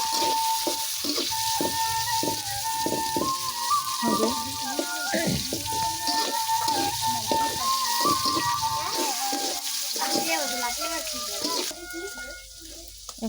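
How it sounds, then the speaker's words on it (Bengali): Chopped onion and green chili fry in a pan for noodles, a bright sizzle running throughout with frequent spatula knocks and scrapes against the pan, fairly close and steady. "পেঁয়াজ কুচি মরিচ কুচি দিয়ে ভাজতে"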